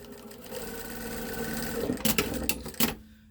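Sewing machine stitching blue checkered gingham strips for a baby quilt, a close steady whirring hum with a few sharp clicks near the end as it stops.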